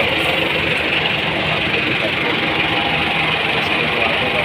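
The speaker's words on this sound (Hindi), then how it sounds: "ये 510 ट्रैक्टर है बहुत बड़ा और इसको निकालने के लिए आया है" A big 510 tractor engine labours to pull a harvester out of a swamp, producing a loud, continuous heavy diesel drone with a rough, knocking vibration throughout.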